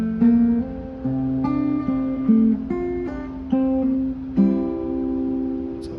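An electric guitar in a lesson rings out a G over C partial barre chord, then a series of picked chord tones that sustain and overlap, played alone at moderate volume.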